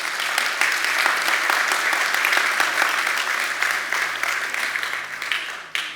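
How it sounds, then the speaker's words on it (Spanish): A church congregation answers with a strong round of applause, many people clapping in a dense, even wash that holds steady for several seconds before it thins out and ends. "Date un fuerte aplauso."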